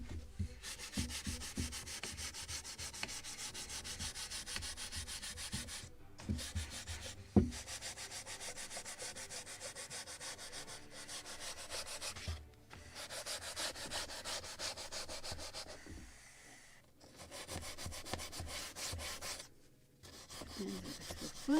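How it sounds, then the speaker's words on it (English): A Scotch-Brite abrasive pad gives the final polish to a wooden model of the 1776 gunboat Philadelphia, a steady close scrubbing rub in long strokes broken by a few short pauses, with no talking. "final polishing with Scotch Brite"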